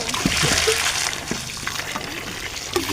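Water gushes steadily from a newly drilled groundwater well, a loud continuous splashing and spattering rush with faint voices under it.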